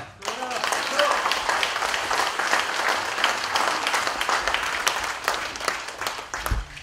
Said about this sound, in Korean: 원래 이렇게 다 박수 치시는 거 보니까